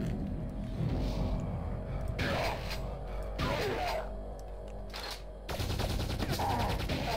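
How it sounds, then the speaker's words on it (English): Rapid shotgun and weapon fire in the video game Quake 2 RTX, dense bursts of booming shots and rumbling explosions back to back with no break throughout. "You guys are no match for my freaking shotgun."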